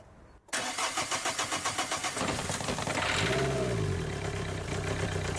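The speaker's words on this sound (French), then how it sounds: "Démarrez le moteur sans attendre et sans préchauffer les bougies." A diesel engine cranks over with brake cleaner sprayed into the air filter intake, its rhythmic starter chugging giving way to a loud, steady running engine that settles into idle.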